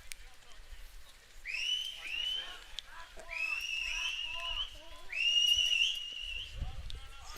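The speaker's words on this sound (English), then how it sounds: "Hearing some whistles from the dugout." Whistles from a baseball dugout during a game, several rising and sliding whistled calls in bursts, fairly clear at moderate distance above low crowd murmur.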